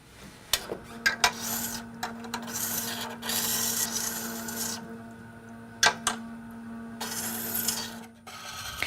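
A gouge is ground on a Tormek sharpening stone, held on the open seat of the universal support; a steady low motor hum runs beneath intermittent raspy scraping bursts of steel against the stone.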